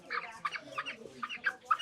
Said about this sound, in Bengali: এটা একটা ব্রয়লার মুরগির ফার্ম